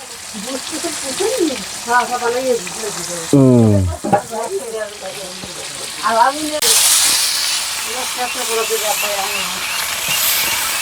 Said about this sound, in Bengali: আজকে রান্না চলতেছে কাতাল মাছ ভাজি বিশাল এক কাতাল মাছ